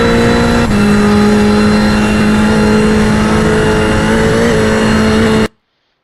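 Race car engine held at full throttle through the esses at Virginia International Raceway in a racing video game, a loud steady high-revving drone with a brief pitch dip early on and only slight rises, ending abruptly.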